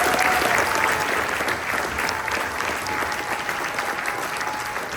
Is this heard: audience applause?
yes